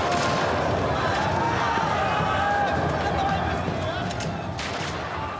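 Rapid gunfire rings out at a street demonstration, sharp cracks scattered over a dense, continuous roar of crowd and running feet that stays loud throughout.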